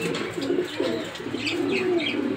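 A male red checker racer pigeon coos repeatedly close by, a series of low throaty rolling calls in quick succession with faint higher chirps behind.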